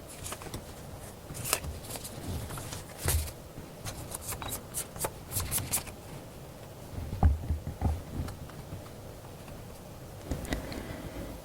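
A deck of tarot cards is shuffled in quick riffling bursts, with soft slides and taps as cards are drawn and laid down, close and fairly quiet, without speech.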